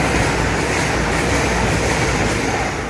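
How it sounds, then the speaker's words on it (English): An East Midlands Railway intercity service bound for London St Pancras runs through Dronfield station, a loud, close, sustained rushing roar of wheels and rail noise with a faint clickety-clack and no talk. "Coming through now is the East Midlands Railway intercity service to London St Pancras."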